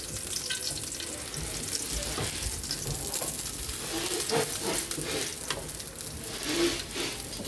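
Daing na bangus, split dried milkfish, sizzling steadily in hot oil in a pan, a close crackling hiss with occasional sharper pops and stirring sounds.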